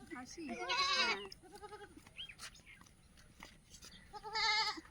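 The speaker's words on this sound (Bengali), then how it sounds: "ছাগল?" Two loud bleats from a castrated male goat, one at the start and one near the end, with quieter animal calls and faint murmuring in between.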